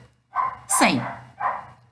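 Dogs bark close by in three loud, separate bursts over a low steady hum, heard during a math lesson.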